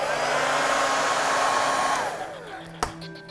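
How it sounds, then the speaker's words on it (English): A hairdryer blows steadily and loudly on an ice statue of Iceman, then winds down and switches off, ending with a single sharp click. "I'm actually gonna use the hairdryer on this guy and see if I can move that icicle."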